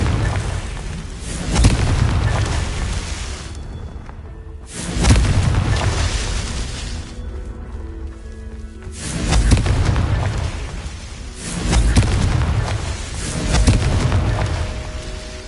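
Confringo explosion spells in a Harry Potter video game go off as repeated deep booming blasts, four or five heavy rumbling bursts a few seconds apart, each trailing off with debris noise.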